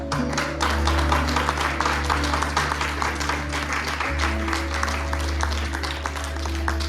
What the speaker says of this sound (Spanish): mientras lo recibimos con un fuerte aplauso